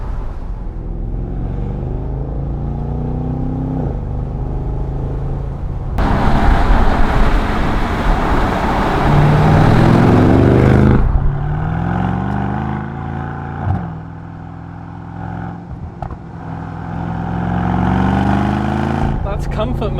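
A Mercedes-AMG S63 Cabriolet with the roof down burbles in comfort mode with its exhaust flaps open, rising into a loud rev midway and then settling to a steady drone, with someone talking over it.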